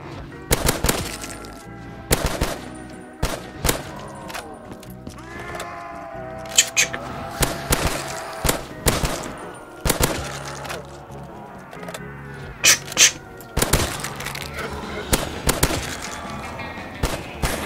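Shotgun blasts in a Call of Duty Zombies game on a SpongeBob Bikini Bottom map ring out as sharp, repeated reports at irregular intervals, mixed with bleating zombie-like cries and game effects.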